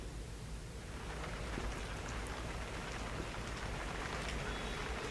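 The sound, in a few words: rain falling in Srinagar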